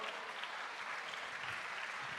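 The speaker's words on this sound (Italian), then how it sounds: "Applauso per loro." An outdoor audience at a festival in Ollolai applauds a young folk group arriving on stage, giving a faint, steady, even wash of many hands clapping.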